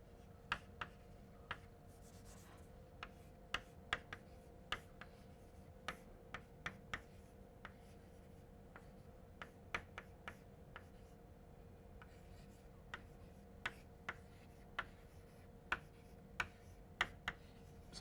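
A formula is written out by hand during a physics lecture, with faint, scattered scratch and tap strokes at irregular intervals over a quiet, steady room hum.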